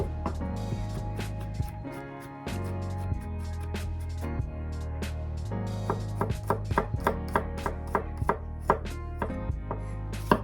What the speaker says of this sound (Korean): 마늘은 4알은 다지고 2알은 편으로 썰어주세요.